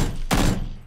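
A sharp burst of gunfire from PlayerUnknown's Battlegrounds cracks out close and loud, then tails off into a fading rumble within a second.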